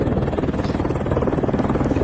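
A helicopter on a Kedarnath flight, its rotor throbbing in a steady, loud, close pulsing drone as it comes down to land.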